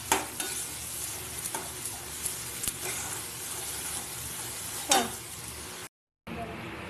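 Fish curry being stirred and fried in a pan: a steady, close sizzle with intermittent scraping stir strokes, a brief silent gap near the end before the frying noise resumes.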